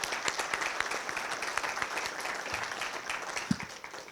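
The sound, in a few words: audience applause for the elder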